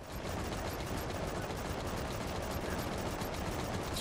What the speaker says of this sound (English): High speed shotgun.